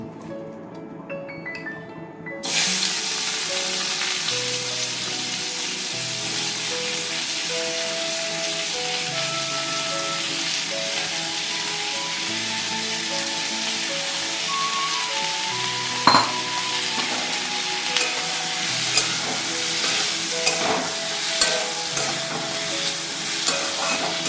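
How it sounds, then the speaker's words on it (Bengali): Chopped onions fry in a pan for chicken bukhara, cooked with little oil alongside garlic and ginger: a steady close sizzle starts after a brief quiet opening, with occasional stirring scrapes and clinks of a utensil against the pan. "পেঁয়াজ একটু ভাজা ভাজা করে তারপর আমি ঢেকে দেবো যাতে সেদ্ধ হয়"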